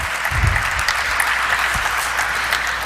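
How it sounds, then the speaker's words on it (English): A steady, dense wash of applause fills a hall at the Global Health Limited (Medanta operator) stock listing ceremony, loud and even from start to finish with no speech over it. "That calls for an applause, ladies and gentlemen."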